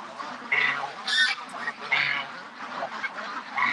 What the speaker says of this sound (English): Oh, that little duck.